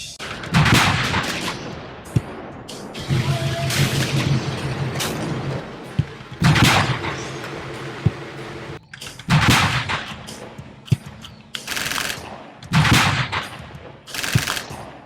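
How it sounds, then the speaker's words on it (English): Two tanks fire their main 75mm guns in a WWII battle, giving loud, heavy booms in irregular bursts mixed with crackling gunfire and rumbling echoes. No voices are heard. "both tanks let loose with their main 75mm weapons"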